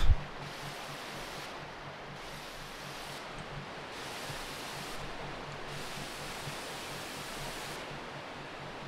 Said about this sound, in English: It better be worth climbing this waterfall.